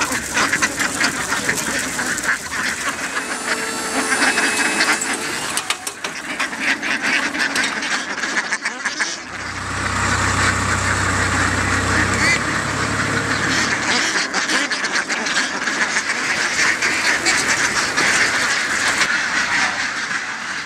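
Ducks quack in a rice field on an organic farm, a busy chorus of calls that carries on throughout, with a lower rumbling stretch in the middle and faint voices now and then.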